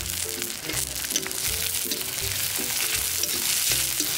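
Cabbage and capsicum frying in a pan for a breakfast thali, with a steady close sizzle and repeated scraping strokes as the vegetables are stirred, with no talking.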